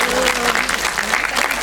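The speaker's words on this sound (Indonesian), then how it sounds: "Tepuk tangan dulu untuk semua komunitas tersebut." A crowd applauds the participating communities at the opening ceremony of the Madani International Film Festival 2025 in Jakarta, with dense, steady clapping throughout, close and loud.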